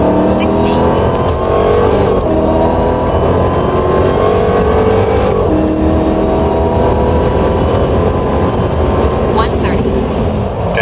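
A 2023 Dodge Challenger SRT Hellcat Widebody Jailbreak Edition accelerates hard during a performance run, its loud engine roaring continuously up through the gears from close range.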